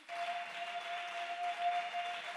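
A church congregation applauds to welcome Sister Alice Oli to the front, a steady, even wash of clapping with a faint constant tone beneath it, lasting a couple of seconds.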